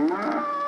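A cow moos once close by, a short, loud, tonal low that holds briefly and then starts to fall away.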